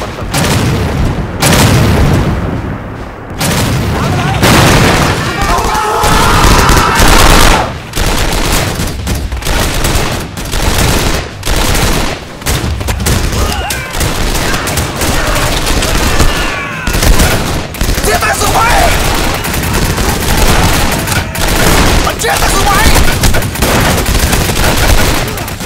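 Video game 7554's battle of Dong Khe erupts with an artillery barrage and gunfire: loud booming blasts and rapid rattling volleys crowd together almost without pause, heavy and continuous throughout.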